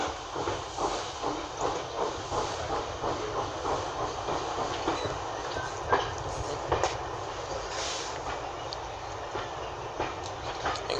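The steam locomotive 62 Ugly runs between Dereham and Hoe, heard from onboard as a steady rumble with rhythmic clickety-clack of wheels on rail joints and a background hiss, without speech.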